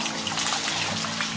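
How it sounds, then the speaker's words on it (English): Water from a hand-operated water wheel pump drawing from a deep river flows out of a plastic pipe in a steady, close trickle with no voices. "the water come out smooth, and much water come out through by plastic pipe"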